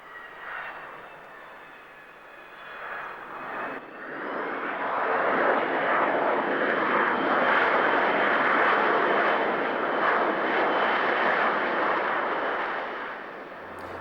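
An airplane roars along the short runway at Gibraltar airport, its engine noise swelling from a whining hum into a broad, loud sustained rush that holds steady before easing slightly, with no voices.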